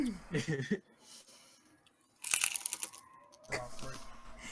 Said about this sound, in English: Someone's just crunching. Right in your ear right now.